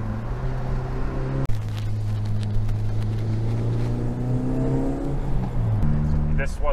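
An old Toyota MR2 mk1 engine idles with a low, rough hum, then revs up and settles back down, close and loud, with someone speaking briefly over it.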